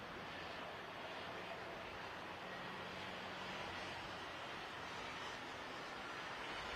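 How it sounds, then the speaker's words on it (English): Airplane passing overhead during a live watch of a conflict area, a faint, steady broadband roar lasting throughout and mixed into distant background noise, with no talk. "you hear that plane right now? I just heard a plane."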